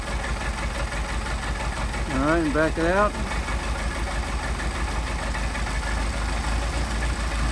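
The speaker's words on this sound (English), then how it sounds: "Hear the engine stumbling?" An idling engine with a Solex carburettor stumbles steadily with a slightly uneven, rough rhythm throughout, while someone speaks briefly over it near the start.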